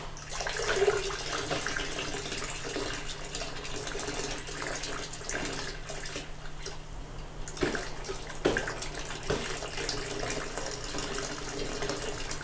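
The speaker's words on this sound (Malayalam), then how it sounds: "അതിലേക്ക് ശർക്കര നല്ല രീതിയിൽ ലയിപ്പിച്ച് അതോടെ ഒഴിച്ചു കൊടുത്തു" Dissolved jaggery water poured into a drum of about eighteen litres of water for making EM culture, a steady splashing pour running throughout, close and fairly loud, with no talk.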